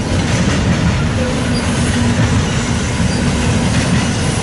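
An eastbound double-stack freight train rumbles past close by in Fremont, its wheels clacking and faintly squealing in a steady, loud roar that fills the whole stretch.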